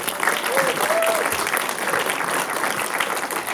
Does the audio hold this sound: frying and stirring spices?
no